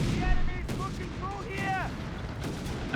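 Battlefield gunfire from Company of Heroes 3 in the Afrika Korps versus British and US forces, with machine guns, armored cars and flak firing: continuous dense crackle and booms, with brief tonal whines, under a commentator's voice.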